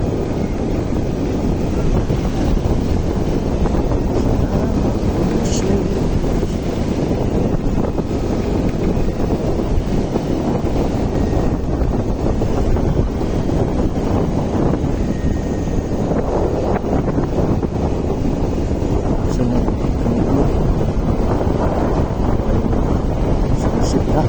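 Strong wind buffets the microphone on a remote road toward Claveria, a loud, constant rushing roar that goes on with no break.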